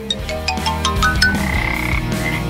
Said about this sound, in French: Surprise! Une grenouille vivante.